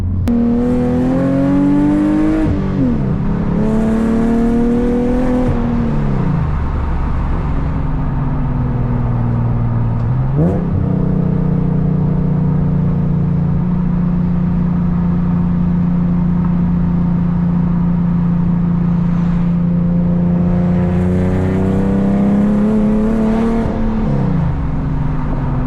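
Infiniti G37 driven on the road, its engine revving up through the gears in repeated rising sweeps with shift breaks between them, loud and close from inside the car, steady cruising drone in between.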